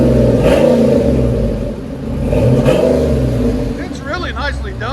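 An LS4 V8 with a Gagliardi Design Vendetta exhaust revs in a few rising and falling blips, a close, loud, throaty engine note, with someone talking over the end.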